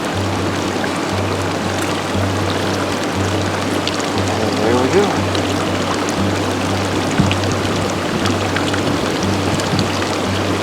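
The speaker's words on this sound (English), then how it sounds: "time to get some clear, cool mountain spring water" Clear, cool mountain spring water trickling and pouring steadily into a container on a solo backpacking trip near Nambe Lake in the Pecos Wilderness, a continuous close splashing flow with a low steady hum beneath and someone speaking briefly.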